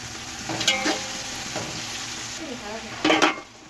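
Carrots and radish frying in a pan with ginger, garlic, green chili and tomato, a low continuous sizzle broken by several sharp clinks and scrapes of a utensil stirring against the pan.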